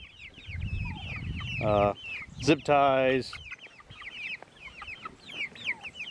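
Chickens kept in a chicken tractor built from PVC pipe and chicken wire cluck and squawk close by, with a couple of loud drawn-out calls over constant background birdsong and brief speech.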